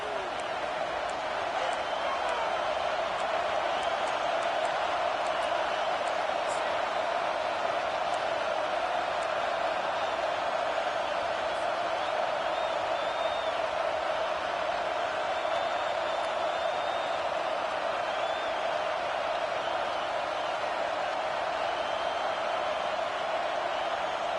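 Steady, dense roar of a loud stadium crowd at a football game, continuous and unbroken at a constant level throughout with no distinct voices standing out.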